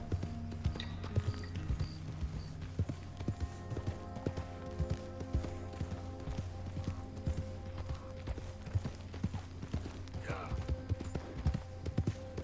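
Horse hooves pulling a carriage in Red Dead Redemption II clip-clop in a steady, continuous rhythm, moderately close, with faint voices in the background.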